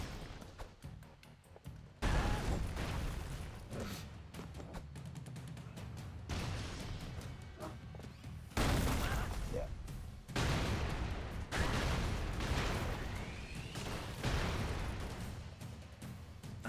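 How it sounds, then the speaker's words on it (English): Explosions from the video game HoloCure burst repeatedly in loud, booming clusters, with sharp onsets followed by sustained rumbling bursts throughout. "I'm just mesmerized by all the explosions"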